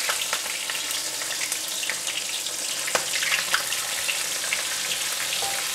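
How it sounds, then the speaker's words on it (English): Hot oil sizzles and crackles steadily as flour-coated prawns deep fry, with scattered sharp pops and spits over a continuous hiss. "In the frying pan, I have preheated the oil for deep fry."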